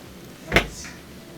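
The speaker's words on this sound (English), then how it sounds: "I'll just push it in and it'll lock into place" A plastic bottom panel of an LG washer is pushed in and snaps onto its clips, giving a single close, sharp knock-like click followed by quiet.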